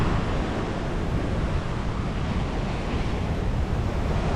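Choppy sea waves roll at Maxwell Beach, Barbados, a constant loud surf wash mixed with gusting wind buffeting the microphone, with no voices.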